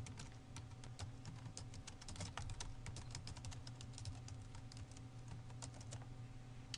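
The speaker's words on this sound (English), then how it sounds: "I'm going to go ahead and hit Return and type in a little bit of text here" Text typed on a computer keyboard in Microsoft Word, a quick steady patter of close, crisp key clicks continuing throughout without talk.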